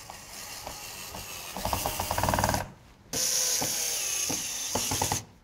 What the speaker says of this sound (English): we have to change the bit so that we can screw the table legs in